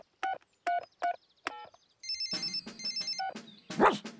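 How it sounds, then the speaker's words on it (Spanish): A cartoon telephone is dialed with a quick series of electronic beeps, then rings with a bright repeating trill, close and clear with no voices. "Voy a llamar a Gran Perro para que me ayude."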